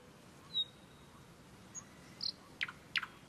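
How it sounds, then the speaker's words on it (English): A bird calls outdoors with a few brief, faint chirps scattered over a quiet background hiss. "Oh, I hear a bird."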